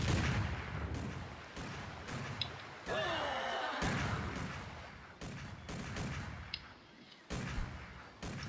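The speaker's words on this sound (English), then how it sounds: "Oh, they have a mini field cannon." Cannon fire from a mini field cannon in the Empire Earth strategy game, Imperial Age, heard as a series of loud booming blasts with sharp onsets, repeating every second or so amid battle noise, with a voice heard at times.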